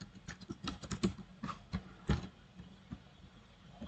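Computer keyboard typing in quick irregular bursts of clicking keystrokes, close and fairly quiet, with short pauses between runs and no voices.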